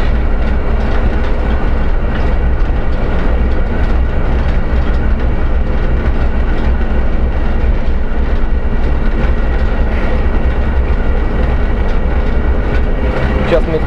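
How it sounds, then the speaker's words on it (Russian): A ChME3 shunting locomotive pulling ten rail wagons rumbles steadily along the rails with a continuous low roar and rhythmic wheel clatter, heard loud and close from the cab, no voices. "Сейчас мы тащим 10 вагонов."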